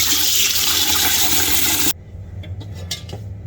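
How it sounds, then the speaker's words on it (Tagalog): Food being washed under a running tap while cooking at home, a loud continuous rush of water that cuts off abruptly, followed by a few light clinks and handling sounds. "Hugasan ko pa muna po ito."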